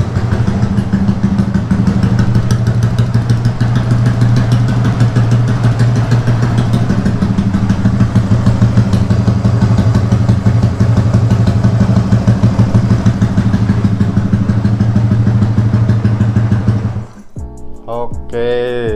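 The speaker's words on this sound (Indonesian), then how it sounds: "terbukti bikin suara mesin jadi lebih adem ya" An automatic scooter engine idles with a steady, fast mechanical chatter and low hum, running continuously before cutting off abruptly near the end, followed by a few clunks.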